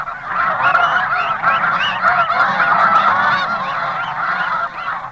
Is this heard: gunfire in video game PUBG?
no